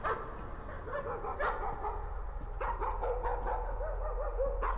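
A dog barks and whimpers in the horror video game Layers of Fear, a series of soft yips and barks over a low ambient drone, somewhat faint and distant.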